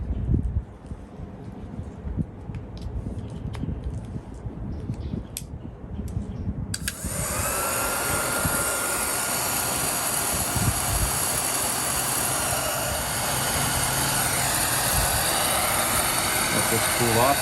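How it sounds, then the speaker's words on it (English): A newly rewired heat gun blasts hot air onto heat-shrink tubing during the restoration of a WEN Model 920 Zipp Saw. A quieter stretch of handling noise comes first, then the loud, steady blowing roar starts abruptly and runs to the end. "I'm going to do the shrink tubing in 2 steps. I'm going to put this tight piece on first. Just grab my heat gun"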